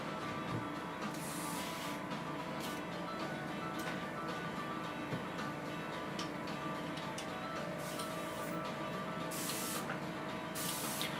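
A continuous airy spray of satin varnish hisses steadily from an airbrush, with intermittent louder bursts and faint ticking underneath; no voices.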